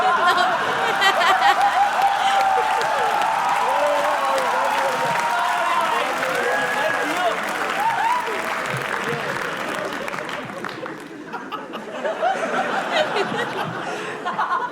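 Audience at a Hindi comedy roast show clapping and applauding continuously, mixed with scattered chuckles and laughter, dense and fairly loud before thinning out near the end.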